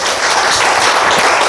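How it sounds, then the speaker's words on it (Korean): Short burst of audience applause at an executive appointment ceremony, a dense wash of many hands clapping together, steady and moderately loud throughout with no voices. "인사 말씀 해주신 원장님께 다시 한번 큰 박수 부탁드리겠습니다"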